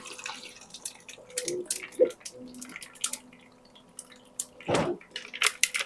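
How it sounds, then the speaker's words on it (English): Water trickles and drips into a Drew Barrymore blender jar in short, quiet bursts with a brief splashing pour near the end, close by, with some faint talking around it. "Put some water."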